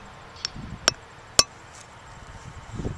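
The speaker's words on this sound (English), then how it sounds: "We're gonna pound on the tracks a little bit." A hammer striking railroad tracks gives three sharp metallic clanks, spaced about half a second apart, ringing bright and close, followed by quiet rustling and a faint shuffle.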